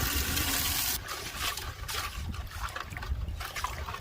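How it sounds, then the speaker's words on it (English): Water pours into a bucket of clay with a steady splashing rush that eases into a softer trickle and gurgle, with no talking. "Let's add some more water to our original bucket and get a little bit more clay out of there"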